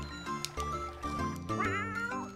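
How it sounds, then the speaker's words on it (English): Two cats in Crimson Gem Saga meowing, a short run of close, clear meows and a drawn-out wavering cry over soft game music. "Like the two kitties snuggling there."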